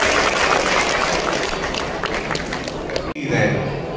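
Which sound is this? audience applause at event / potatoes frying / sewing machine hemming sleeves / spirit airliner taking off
audience applause at event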